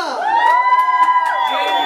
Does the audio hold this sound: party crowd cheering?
yes